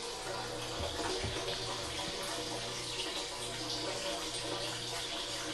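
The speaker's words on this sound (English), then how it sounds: "So that is pure water coming out of the RO." Steady rush of pure water flowing out of a DIY reverse osmosis system used for maple syrup processing, a continuous close splashing stream with a low pump hum beneath.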